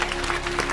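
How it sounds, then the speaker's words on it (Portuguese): Studio audience clapping on a live Brazilian music talk show, a short steady patter of hands with no pause. "Palmas para Jesus!"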